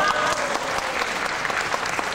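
A concert audience in Asheville applauds the band's musicians, a full, steady wash of clapping filling the room without a break.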